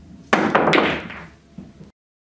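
A solid maple pool cue shaft strikes the cue ball for a jump shot: a sharp close crack, a quick second hit, the ball clattering onto the table, then a softer knock as it rolls away.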